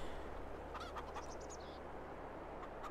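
Chickens in Farming Simulator 22 clucking faintly over a steady low background hum, with a short run of soft bird calls in the middle.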